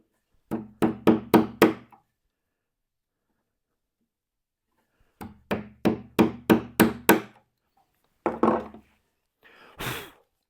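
Chisel struck on wood while cutting a dovetail template, with two quick bursts of four to six sharp, close mallet blows separated by silence, then a couple of softer single knocks.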